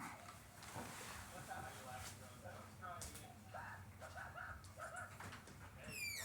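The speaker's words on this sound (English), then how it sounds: "My dog wants in." A dog at the door wanting to be let inside, giving short whimpers and yips amid background noise, with a person talking nearby.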